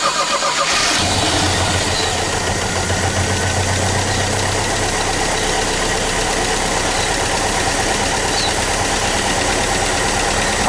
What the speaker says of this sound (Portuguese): agora a gente vai dar uma partida no motor só para verificar se não tem nenhum vazamento